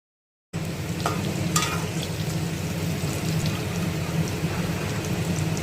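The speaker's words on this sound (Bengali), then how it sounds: "আর এদিকে আমার আলু ভাজা হয়ে যাচ্ছে" Potatoes frying in a pan at home, a steady sizzling hiss running throughout with a low hum beneath and a couple of brief clinks near the start.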